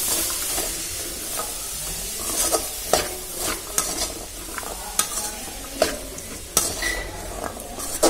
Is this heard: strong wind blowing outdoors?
no